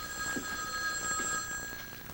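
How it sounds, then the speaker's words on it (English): A telephone in Dallas rings with a steady bell-like tone, faint and continuous for about two seconds with no one talking over it. "Stoley tracked Zapruder down through the Dallas phone book and called him every 15 minutes"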